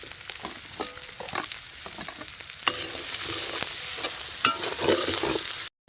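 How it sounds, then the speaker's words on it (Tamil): Onion, green chili and ginger-garlic paste sizzle and crackle steadily in hot oil, with occasional scraping and stirring clatter close by. "இப்போ வெங்காயம் பச்சை மிளகாய் இஞ்சி பூண்டு பேஸ்ட் எல்லாம் போட்டு தாளிக்க போகிறோம்"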